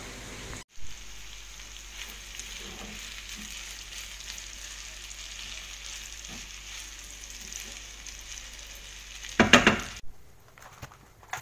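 Food sizzles and fries quietly in a pot as it is stirred to release its syrup, a steady soft crackle with a few clanks of the utensil and a louder clatter near the end.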